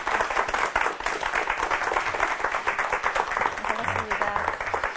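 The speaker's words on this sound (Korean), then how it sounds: "박수로 맞아주시기 바랍니다." Studio audience applauding to welcome a baseball commentator onto a Korean talk show stage, steady dense clapping filling the whole stretch with some voices mixed in.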